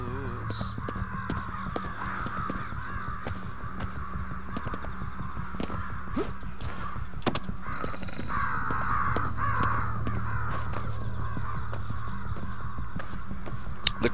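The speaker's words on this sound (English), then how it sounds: "The crows." Crows cawing in a horror-themed video game, repeated harsh caws over a steady low ambient drone with scattered clicks, moderately close and without talk over it.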